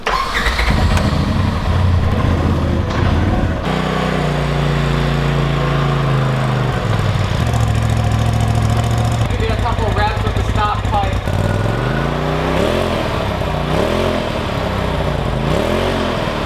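A Polaris RZR Turbo S engine with its stock exhaust starts and idles, then is revved in several rising and falling bursts near the end, loud and close.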